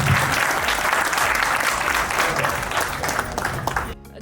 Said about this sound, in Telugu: మీ అందరూ గట్టిగా క్లాప్స్ ఇస్తే అంబిక గారిని ఇన్వైట్ చేస్తున్నాను.